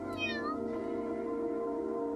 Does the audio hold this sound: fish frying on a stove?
no